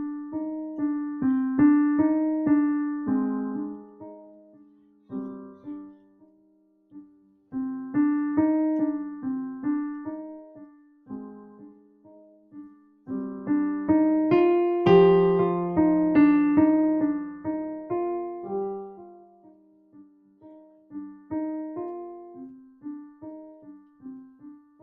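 Early elementary piano piece, played as simple melodic phrases with clear sustained notes, each line fading before the next begins, heard alone and fairly close.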